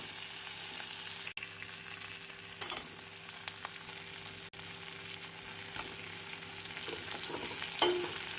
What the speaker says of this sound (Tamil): நாம் கறிவேப்பிலை சேர்த்து நன்றாக வதக்கி